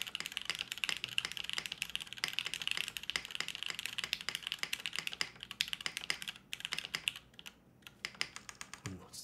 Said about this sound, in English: this is the Wendy TKL from Kibou, designed by Russ Works